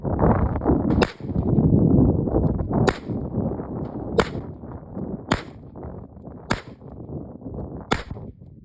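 A 9mm Chiappa Rhino revolver fires Hornady Critical Duty 135 grain rounds: six sharp, loud shots at roughly even intervals, each a crisp crack over a low background rumble.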